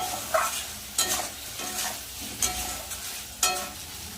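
Masala with green peas and green chillies fries and sizzles in a pan while a spoon scrapes and stirs it in loud, irregular strokes about once a second, with no voices.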